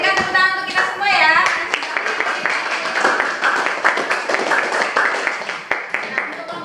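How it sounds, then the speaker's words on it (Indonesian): Classroom applause for a student group, a burst of many hands clapping together with voices and chatter over it, staying fairly steady, then thinning into scattered claps. "berikan tepuk tangan untuk kita semua ya"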